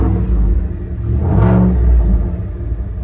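A Ford Coyote V8 swapped into a 1978 Ford Bronco revs up to a loud, close peak and then settles back, with no talking over it.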